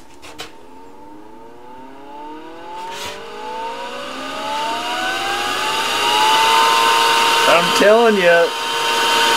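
A homemade food smasher built from a muffin fan spins up, its motor whine climbing steadily in pitch into a loud, steady high-speed drone, with a brief spoken phrase near the end.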